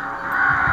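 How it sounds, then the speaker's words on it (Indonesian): A crow caws in a horror video game, one drawn-out harsh call that rises over a steady background drone. "Okay, gagak."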